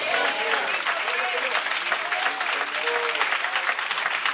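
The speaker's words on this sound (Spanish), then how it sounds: "den un aplauso a Dios en este día" A church congregation applauds during a Spanish-language sermon, with steady, dense clapping filling the room alongside cheering voices and a preacher's voice calling out over it.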